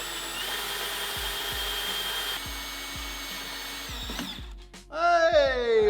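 A drill whines steadily while drilling out a spinning rivet on an old project boat, with repeated short scraping ticks, then cuts off and a brief higher squeal follows.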